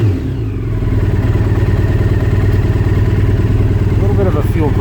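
A 1997 Honda CBR900RR motorcycle engine runs at a loud, steady idle up close, with a mechanical clatter in the tone. A little sound rises near the end.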